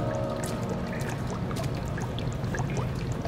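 Oil draining in the horror game Amnesia, a steady pouring, trickling wash of liquid that runs continuously at moderate level with small dripping splashes and no talk.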